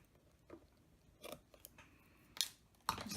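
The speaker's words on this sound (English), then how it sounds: "Get my ribbon scissors." Quiet, crisp snips from scissors cutting ribbon, a few sharp clicks spaced apart, close and isolated.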